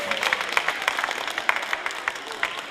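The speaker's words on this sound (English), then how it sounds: "Give him another round of applause" A small audience at a kids' jazz event claps in a short burst, with distinct individual hand claps audible in a brief, moderately loud round of applause.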